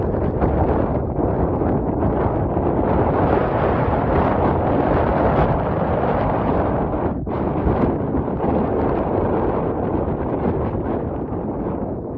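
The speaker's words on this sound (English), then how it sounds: "a little breezy" Strong wind roars steadily across the microphone at a Whistler ski lift on Crystal Ridge, a loud, unbroken rush of buffeting that never lets up.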